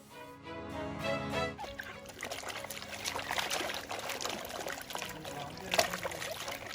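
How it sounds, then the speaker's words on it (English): Bananas being washed under a running tap, a steady trickle and splash of water with a tonal hum at first, continuing at moderate level throughout without speech. "bananas have to be absolutely and thoroughly washed"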